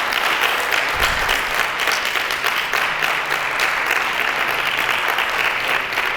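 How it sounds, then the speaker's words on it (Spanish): A lecture audience breaks into strong, sustained applause at the close of a talk, a loud, even wash of clapping from many hands in a hall, with no voices over it. "pues le damos un fuerte aplauso a Guillermo."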